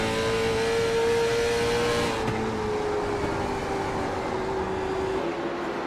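Onboard engine of Nash Pointer's late model race car in the Donut Box Late Model Series at Lucas Oil IRP: a loud, sustained engine drone that dips briefly in pitch about two seconds in, then holds steady.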